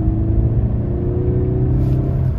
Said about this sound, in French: Allez, petite accélération de nuit comme ça.